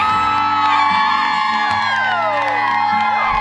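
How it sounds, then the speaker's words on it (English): A studio audience screams, whoops and cheers loudly for a country singer. The shrill crowd noise is dense and constant, with excited high-pitched shouts rising over the top and a steady musical tone underneath. "like hearing the people screaming for him"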